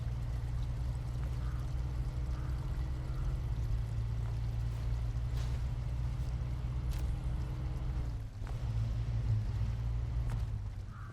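In the SnowRunner video game, a truck drives through river water, its low engine drone running under a continuous sloshing pour, with a brief dip and a splashy surge near the end.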